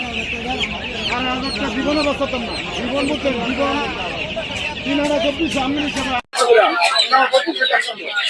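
Farm chickens cluck and chatter throughout at a poultry market in Narsingdi, Bangladesh, a dense flock close by, with people talking over the birds.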